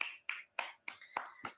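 Six crisp, evenly spaced claps sound close by in a quick rhythm, each sharp and dry, with no voices, as classroom applause.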